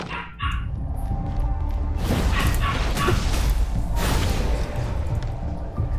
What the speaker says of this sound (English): Why is the dog so loud?